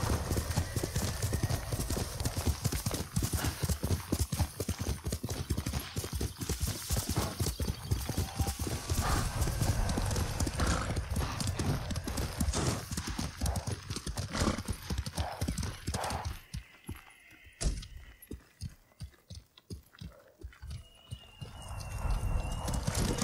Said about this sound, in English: Call a horse. It's not too far, but let's just go for a ride instead.